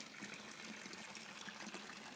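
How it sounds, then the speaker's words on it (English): Water trickling and splashing in a swimming pool at a home, a steady broadband wash that holds for the whole stretch at a low, even level with no voices. "I don't know if you can hear this water"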